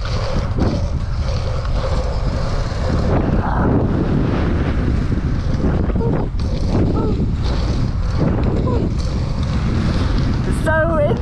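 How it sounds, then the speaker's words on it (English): Strong outdoor wind buffets the microphone at a BMX track, with a loud, constant low rumble and gusty roar. Voices are faintly audible underneath. "It's so windy!"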